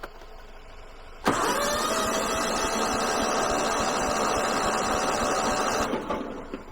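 A lawn tractor engine cranks over on the starter after its battery is charged, a steady loud whirring churn that runs about five seconds before cutting off, with no voices.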